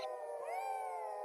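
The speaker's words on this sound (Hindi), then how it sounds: "वहां कोई भूखा जानवर दर्द से चिल्ला रहा हो" A pained animal howl, a drawn-out canine wail in a horror-story setting, rising and holding steady in a single continuous cry, moderately loud with no talk over it.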